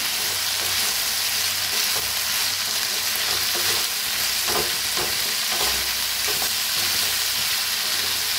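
Potato pieces with peanuts for a fasting-day vegetable dish fry in a hot pan with a loud, steady sizzle, while a spoon scrapes and stirs at irregular moments.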